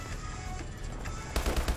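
A rapid burst of automatic fire from an attachment-equipped gun in Call of Duty: Advanced Warfare multiplayer, four or five quick punchy shots near the end after quieter background game noise.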